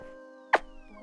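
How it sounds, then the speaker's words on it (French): A cat gives one short, sharp meow midway through, standing out clearly against a quiet indoor background with a faint steady hum. "Bonjour le chat au passage, je vois que j'ai quelqu'un de poilu qui vient pour lire avec nous."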